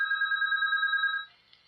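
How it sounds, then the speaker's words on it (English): A telephone rings for an incoming call, giving one sustained electronic bell tone, clear and close, that holds for about a second and then stops, leaving near silence. "We have a phone call coming in?"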